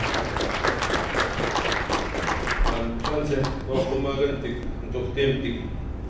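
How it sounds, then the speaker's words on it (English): Audience applauding Chief Wallace Fox at a language keepers conference, steady broadband clapping from a crowd filling the clip, with talk breaking in over the later part. "Let's give him a round of applause, ladies and gentlemen"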